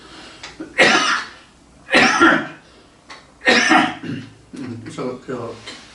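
Three harsh, chesty coughs, spaced a second or so apart, followed by a brief bit of talking.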